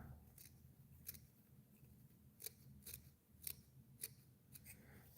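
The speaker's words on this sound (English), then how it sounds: "And then I'm going to cut it off the stem." Small scissors snip a hackle feather off its stem at a fly-tying bench, giving about eight sharp, crisp clicks at an irregular pace, close and fairly quiet, with no talking.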